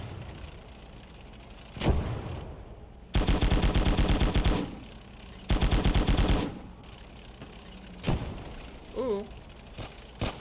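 A machine gun dumps its magazine in Gates of Hell: Ostfront, heard as two loud, close sustained bursts of automatic fire. Lone shots come before and between them, with a short rising whine near the end.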